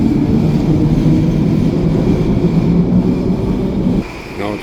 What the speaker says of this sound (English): Train creeping in the station.